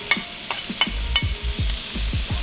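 Bacon hitting a hot sauté pan for eggplant tomato pasta gives a loud, steady sizzle with several sharp clinks and scrapes of a utensil early on, no voices over it.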